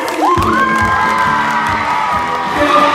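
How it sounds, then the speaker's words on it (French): Audience at a regional improv theatre competition final cheers, whoops and claps loudly and steadily throughout, a dense crowd roar with children's shouts and rising whistles on top. "Applaudissements pour Issa Doumbia"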